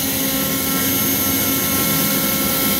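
A shop vac pulls router chips through the dust boot of an X-Carve CNC, giving a loud, unbroken roaring rush of suction noise with no talk.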